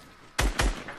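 Two sharp gunshots in a video game, close and loud, fired in quick succession less than a quarter second apart, each with a brief booming tail.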